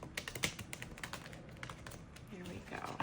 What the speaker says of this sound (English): I'm gonna do another little shuffle here